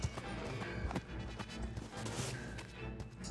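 Rapid, heavy footsteps pound through a chase in the video game Friday the 13th, thudding in a dense, continuous run with scraping and clattering layered over them. No music plays underneath.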